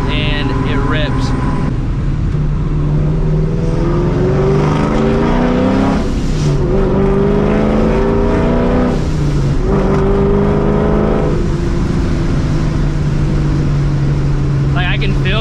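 A supercharged New Edge Mustang GT on a dyno revs hard in repeated long pulls at full boost, pitch climbing steeply with each run, loud and close with brief drops between bursts.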